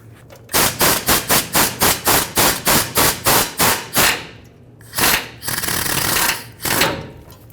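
Rapid bursts of an air impact wrench loosening the top exhaust manifold bolts on a 2004-2009 Ford F-150 with the 5.4L 3-valve engine: a dozen loud, evenly spaced hammering pulses, then a pause and a few longer, rougher bursts as the stud breaks loose.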